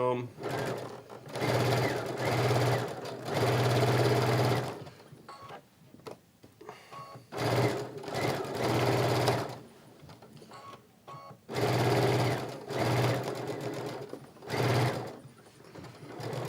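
A sewing machine runs in steady bursts while stitching a quilt seam, its rapid mechanical whir starting and stopping several times, close and loud, with a person talking through the pauses.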